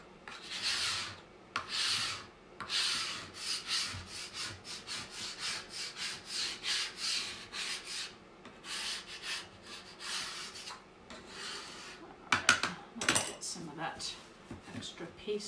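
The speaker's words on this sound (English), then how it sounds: "This is our brand new board scraper. This is phenomenal. This just takes, look at that, take all your paste right off." A board scraper drags over a chalkboard, lifting paste off in a rhythmic series of close, gritty rubbing and scraping strokes, ending with a few sharper scrapes.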